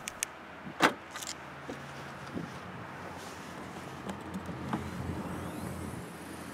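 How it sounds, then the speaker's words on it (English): A 2018 Ford Mustang GT trunk released with the key fob gives one sharp latch click and thunk near the start, then a few faint mechanical clicks over steady outdoor wind noise. "To get it open, just use the fob."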